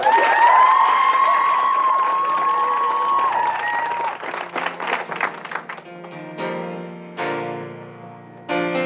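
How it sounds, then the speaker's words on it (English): A television studio audience applauds after a song introduction, clapping rising under fading music, then scattered bursts of applause continuing in a lively room. "Give them a round of applause."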